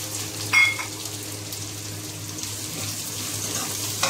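Two chopped onions drop into a hot pan and set off a loud, broad, hissing sizzle that keeps going steadily, with a brief clatter near the start.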